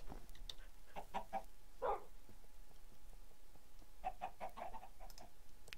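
Minecraft chickens cluck in short bursts of three to four notes, heard twice with a single louder squawk between them, set over a steady low game ambience with no talking.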